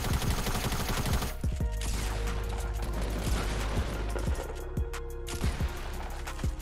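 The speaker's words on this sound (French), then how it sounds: "Fais gaffe à ta droite, les balles de sniper." Sniper fire in a Fortnite match, heard as a few sharp shots, mechanical clicks and gunfire bursts spread through a dense, loud game soundscape with no talking.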